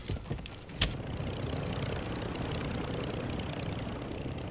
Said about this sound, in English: Chopper coming.